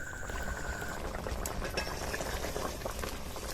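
Pumpkin gravy boils hard on a high flame, a dense, steady bubbling and gurgling heard up close for the whole stretch, with no voices.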